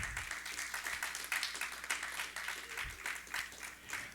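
A church congregation claps for the Lord during a Spanish-language sermon by Pastor Gaston Medrano, a steady patter of many hands at moderate distance with faint voices underneath.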